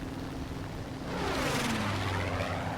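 Twin engines of a Havoc Mk 1 bomber in War Thunder drone steadily and close, swelling louder midway as the aircraft manoeuvres, with a sustained propeller hum throughout.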